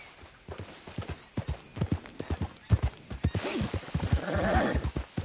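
Rapid clip-clop of horse hooves with a loud neigh rising near the end, close and lively, game sound effect from Red Dead Redemption 2.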